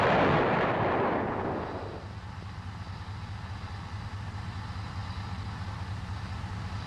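Main gun of an M551 Sheridan armored reconnaissance vehicle fires once: a loud, close blast that rolls off into a long rumbling decay over a steady low engine idle.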